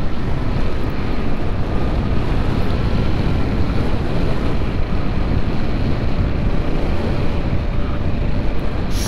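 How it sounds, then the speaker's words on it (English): Steady roaring wind rush on a moving motorcycle at speed, loud broadband buffeting that stays constant throughout with no voices. "It's just the wind rush speaks to you."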